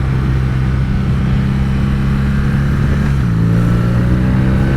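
A BMW R nineT motorcycle riding through twisty roads, with a loud, steady engine drone that shifts pitch partway through as the rider changes speed. The engine is heard close up and without talk.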